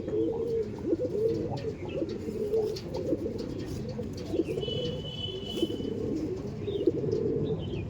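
Andhra breed pigeons in a loft give steady low cooing throughout, a dense near chorus of overlapping coos with a few faint chirps above.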